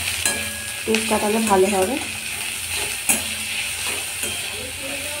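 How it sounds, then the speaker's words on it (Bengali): Onion and garlic sizzling and frying in a pan as they are stirred for a fish jhura, with a steady hiss and scraping stir strokes, while someone talks over it throughout. "পেঁয়াজটা দিয়ে কিছুক্ষণ ধরে নাড়াচাড়া করে রসুনটা দিয়ে দেব।"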